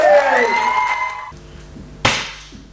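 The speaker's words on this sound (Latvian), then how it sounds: "Aplausi Aldī!" An audience breaks into applause for a performer named Aldis at a Latvian comedy stage show, a sudden burst of clapping that follows music and an announcer's voice.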